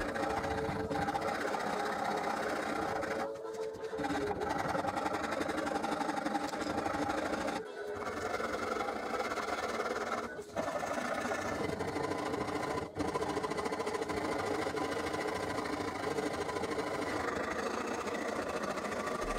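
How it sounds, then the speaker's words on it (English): A rasp file shapes and rounds over a salvaged oak electric guitar neck, giving a continuous coarse scraping that fills the clip, close and loud, with a few brief breaks between strokes. "I started with a rasp file."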